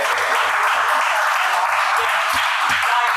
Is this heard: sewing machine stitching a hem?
no